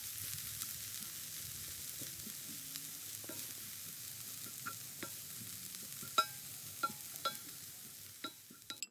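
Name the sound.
cabbage and grated carrots cooking in pan, stirred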